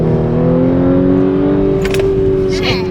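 The 2022 Audi S5 Sportback launches hard, its engine droning loudly and steadily rising in pitch over a few seconds from inside the cabin, with brief voices partway through.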